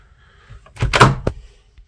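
A campervan toilet door swings open with a short whooshing scrape and a sharp knock or latch click, close up and brief, with no talking.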